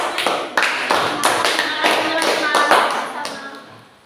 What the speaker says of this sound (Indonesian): Kita berikan tepuk tangan untuk teman-teman.